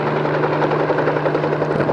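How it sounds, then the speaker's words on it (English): A helicopter's rotor chops in a loud, steady drone close by, with a constant low hum and no talk. "they decided to get in that helicopter"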